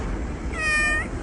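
A pet cat meows once, a short rising-and-falling call heard close up over a quiet room hum.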